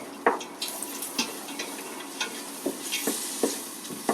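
Onion and garlic sizzle in melted butter while a utensil scrapes and taps the pan, a soft frying hiss under irregular close stirring clicks.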